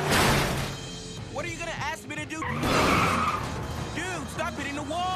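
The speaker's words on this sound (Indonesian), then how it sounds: "Di awal episode ini kita akan melihat ada Mikey bersama supir truk sampah sedang kabur dari kejaran Mechazoid." An animated garbage truck flees in a chase, its tires skidding and squealing in bursts beneath a narrator talking steadily over the action.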